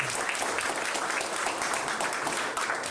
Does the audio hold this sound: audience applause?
yes